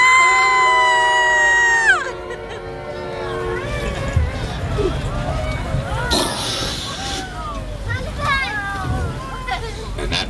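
Duck tour passengers on an amphibious truck scream and cheer in a crowd as it drives into the water, loud voices rising and falling over engine and splashing noise.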